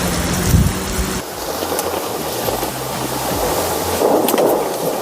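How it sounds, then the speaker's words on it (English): Heavy rain pours in a dense, loud roar with a low rumble of thunder underneath, the downpour swelling slightly toward the end. "rain is crazy"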